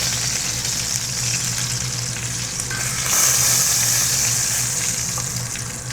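Beef sears in a hot frying pan, a steady close sizzle that swells brighter and louder partway through, with no talk.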